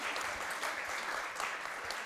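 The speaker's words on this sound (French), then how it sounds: "vous avez le droit de l'applaudir." Audience applause at a French political meeting on European strategy, a dense, steady wash of clapping from a large crowd lasting about two seconds with no voices over it.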